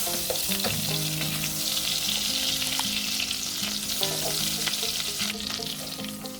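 Butter and olive oil sizzling in a pan at the start of a shrimp risotto, a loud, continuous crackling fry with soft clinks of a utensil and faint tonal hum underneath.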